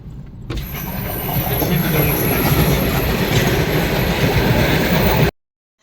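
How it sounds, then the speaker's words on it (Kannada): A train rumbles past close by, a steady loud roar with rattling wheels that cuts off abruptly at the end. "ದಾರಿನಲ್ಲಿ ಟ್ರೈನ್ ಬೇರೆ ಕಾಣಿಸ್ತು"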